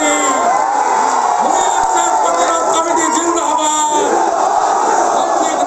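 A large political rally crowd in Nandigram chants Joy Bangla and Joy Bharat slogans, a loud massed roar of rhythmic shouting voices that carries steadily without pause, close and dense.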